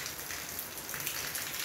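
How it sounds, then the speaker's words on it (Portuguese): Steady rain falls in the Sertão of northeastern Brazil, a dense, even hiss of drops on surfaces heard alone at moderate volume. "aqui é a noite toda chovendo, noite toda chovendo e hoje o dia chovendo"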